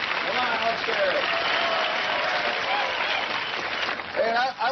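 Audience applause fills a 1977 live show by Jean Shepherd, a dense, steady wash of clapping from a large crowd with scattered whoops and cheers, loud and sustained throughout, briefly dipping near the end.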